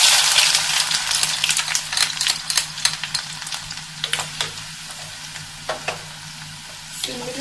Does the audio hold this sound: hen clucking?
no